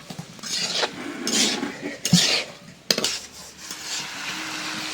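A spoon scrapes and clanks against a cooking pot while spiced chickpeas are stirred, with a few sharp metallic knocks and shuffling scrapes at irregular intervals, close by with no talking.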